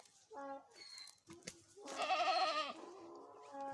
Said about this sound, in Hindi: एक हमने बकरी भी रखी हुई है।